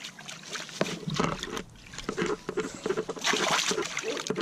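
Water is dumped out of a container at a horse stable, giving sloshing, splattering bursts with irregular pauses, close by and moderately loud.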